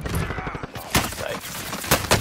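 Gunfire in a Call of Duty Warzone match: a sharp shot near the start, then several loud bursts spaced through the moment, mixed with game noise and a little voice.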